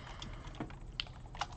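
Soft, quick keystrokes click on a computer keyboard, a few separate taps heard faintly and close in an otherwise quiet room.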